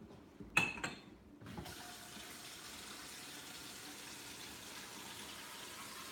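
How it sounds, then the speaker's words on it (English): A tap turns on after a couple of clicks and runs with a steady, even rush of water. "Can I just run the tap?"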